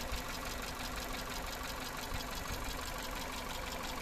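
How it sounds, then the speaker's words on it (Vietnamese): A Kia Morning 1.0 four-cylinder engine idles steadily and evenly, a constant mid-low hum with a faint regular pulse and no knocking, heard alone at close range. "các bác nghe tiếng máy này"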